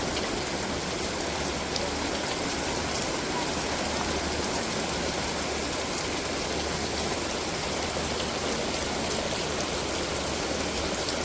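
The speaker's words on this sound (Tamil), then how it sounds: "தண்ணி ஆறு எடுத்து ஓடிக்கிறது பாருங்க" Dense, steady rain hisses without pause, blended with a constant rush of rainwater running like a river.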